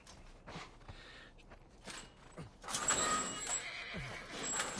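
A horse whinnying in the video game The Last of Us Part I, a brief neigh rising out of quiet outdoor ambience with faint creaks and hoof-like knocks, fairly soft and unaccompanied by speech.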